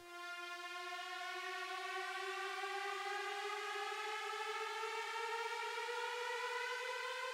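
A single sustained buzzy saw-wave synth tone holds steady and bright for several seconds, rich in harmonics and slowly rising slightly in pitch, with a washy reverberant tail.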